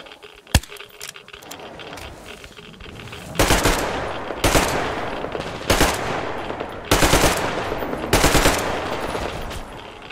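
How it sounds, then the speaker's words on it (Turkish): Automatic gunfire in the video game Metro Exodus, shots fired at the player: a single sharp crack followed by four loud bursts of rapid machine-gun fire spaced a second or so apart over a low background rumble. "Oha bize de sıkıyorlar."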